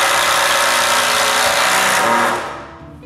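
A power driver sinks 6-inch screws into a wooden clamp rack in a woodworking shop, giving a loud, steady whirring drone that runs for over two seconds before cutting off abruptly.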